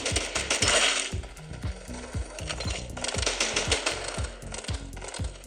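Mechanical clicks and clacks of a weapon reloading in the mobile shooter Farlight 84, played on a Xiaomi Pad 6, come as a rapid rhythmic run over steady game noise, with no voice.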